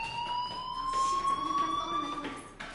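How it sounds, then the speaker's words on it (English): A fire alarm in a video game sounds as a steady high electronic tone with a slightly rising pitch, moderately loud and continuous across the clip, with faint background noise. "Hey, do you hear that fire alarm?"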